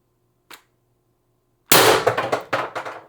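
An Umarex TR68 air rifle running on high-pressure air fires a single sharp, loud shot up close, with a brief rattling decay after a faint click beforehand.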